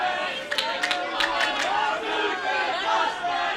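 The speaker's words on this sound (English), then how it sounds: "The crowd chanting stupid mustache" A wrestling crowd at a live show chanting in rhythmic unison, loud and close, with many voices mixed together and sharp claps or shouts punctuating the chant.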